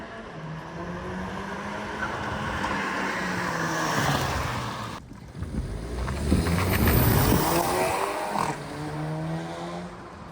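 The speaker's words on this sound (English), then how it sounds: "sounds pretty classy with just that downpipe not giving too much exhaust and you hearing the turbo" A turbocharged MQB-platform car fitted with an aftermarket downpipe pulls hard with a rising turbo whoosh and a deep, steady exhaust drone, easing off briefly midway before building again.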